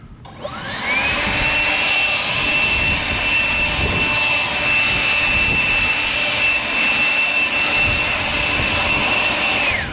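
A steady, loud whooshing battery-powered Kobalt leaf blower on turbo setting roars continuously with a high whine on top, starting abruptly and holding constant throughout.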